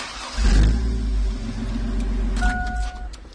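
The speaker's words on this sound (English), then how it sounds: "If I take this wire off the ground, the vehicle should start again." A car engine cranks and catches after a starter-disable relay from a GPS tracker is bypassed, then settles into a steady, close idle rumble.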